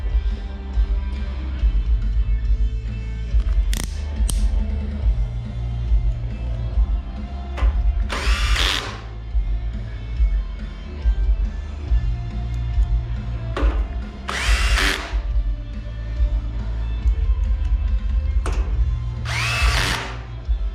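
A power drill drives screws into an audio rack for a Nissan NX300D, with steady motor whine under the workspace and three louder bursts as screws seat firmly, spaced several seconds apart, close by.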